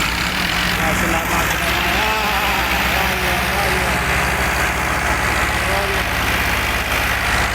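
A stuck tractor's engine roars and strains at a steady, heavy drone, with people talking over it.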